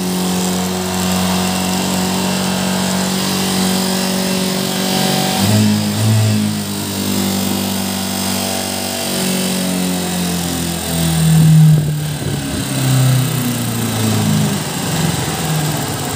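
Honda TMX 125 Alpha motorcycle engine idling up close after a cold start, a steady buzzing single-cylinder drone whose pitch rises and dips slightly around the middle and later, with no talking.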